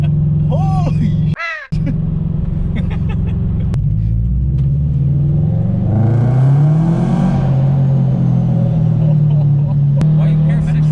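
A turbocharged Subaru BRZ rumbles and accelerates loudly throughout, its engine note rising and falling through revs with a brief dropout near the start, while people talk and react over it.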